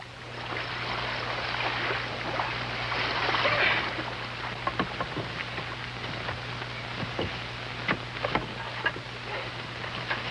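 A canoe being paddled across water, with a steady wash of water and a low hum throughout, plus scattered small splashes and drips from the paddle strokes.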